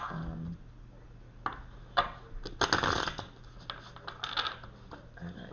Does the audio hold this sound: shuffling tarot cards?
yes